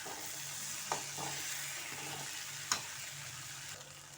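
Moong dal sprouts with grated coconut stirred in a pan on a gas stove, a steady soft sizzle with a couple of sharp spoon scrapes against the pan, close and moderately quiet, no talking.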